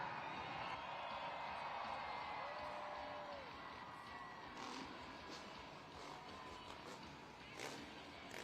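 Arena crowd at a Monster Jam event in Charlotte, cheering steadily, with whoops and shouts swelling now and then and a faint voice in the mix.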